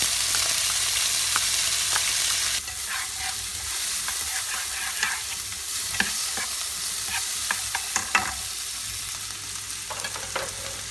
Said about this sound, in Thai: เดี๋ยวปูจะขอใส่ตัวผักแช่แข็งลงไปก่อนนะคะ